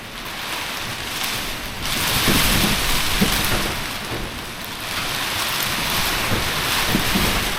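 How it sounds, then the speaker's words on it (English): Storm Eowyn wind roaring steadily through a gap in a shed, a loud broadband rush that swells and eases in gusts without a break. "the wind getting in here now is coming in the gap that I have made to let the wind out"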